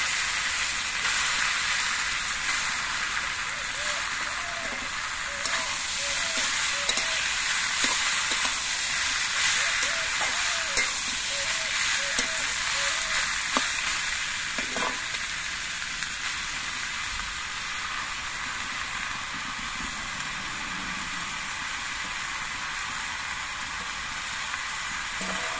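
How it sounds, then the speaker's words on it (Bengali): Bottle gourd pieces frying in hot oil with ginger and radhuni paste for a Bengali shukto, a steady close sizzle and hiss running throughout with small pops and stirring clinks, no talking. "আদা আর রাঁধুনিটা একটু তেলের মধ্যে মেরে তেড়ে দিয়ে এর মধ্যে লাউ গুলো দিয়ে দিচ্ছি।"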